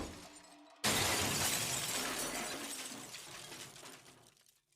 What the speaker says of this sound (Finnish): Pöytään nojanneet kyynärsauvat kaatuivat lattialle valtavalla kolinalla.